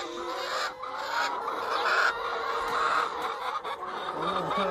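Hens in a coop with wood-shavings bedding cluck and murmur continuously at close range, a dense flock chatter with no talking over it.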